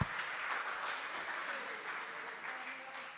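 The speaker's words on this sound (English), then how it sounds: "Hand of applause to all of you." An audience applauds at a Stanford Seed mixer, a soft, continuous patter of many hands clapping that fades slightly over a few seconds.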